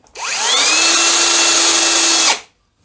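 A Ryobi cordless drill driver whirs at a steady high pitch for about two seconds while driving a screw, then cuts off abruptly as the clutch disengages, leaving silence.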